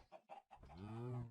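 A chicken in the Minecraft Feed The Beast video game gives two short clucks followed by a longer, drawn-out squawking call, close and fairly quiet.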